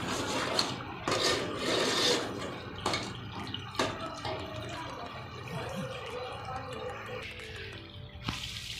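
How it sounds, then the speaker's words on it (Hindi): Masala scraped and stirred in a hot pan for an aloo chicken curry, with repeated rasping, scratchy strokes and faint sizzling, fairly close and steady with no talking. "मसाला अच्छी तरह भून लेना है। इसको भूनना अच्छी तरह है।"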